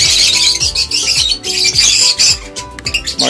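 Loud, close squawks and chirps from pet birds in a breeder's cage, rapid overlapping calls in quick bursts with brief gaps.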